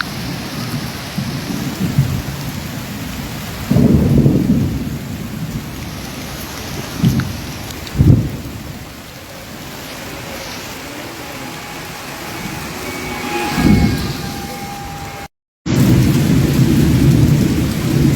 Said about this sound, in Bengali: এখন বাতাস আর বৃষ্টি আছে